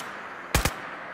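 Two quick gunshots fired at a raider in the video game Fallout 4, sharp close reports in fast succession over a quiet ambient hum.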